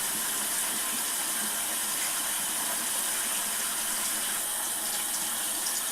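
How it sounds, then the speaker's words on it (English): Running tap water pours steadily over a makeup brush being rinsed, a constant close broadband rush with slight splashy variation throughout and no talking. "I'm going to rinse my hand off, swirl some more."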